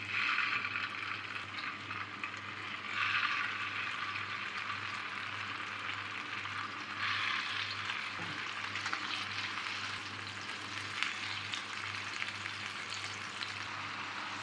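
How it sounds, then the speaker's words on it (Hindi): Chicken reshmi seekh kababs fry in about four tablespoons of oil, a continuous soft sizzle and crackle with occasional brighter spits, fairly quiet and steady, no talking. "4 टेबलस्पून मैंने इसमें ऑयल डाला है, बहुत ज़्यादा ऑयल इसमें जाएगा नहीं और इसको हम डाल देंगे।"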